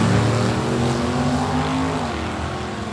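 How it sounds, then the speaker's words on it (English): A 331 cubic inch Chevrolet drag racing car at a dragway launches with a loud, steady engine roar that holds for about three seconds before easing slightly. "The green machine over there on the right, 331 cubic inches of Chevrolet power."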